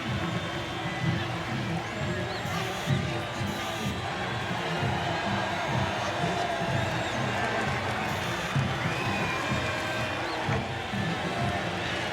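A crowd roars and cheers at the Singapore race in the F1 26 racing game as the winner takes the top spot, a dense, sustained wash of crowd noise with no letup.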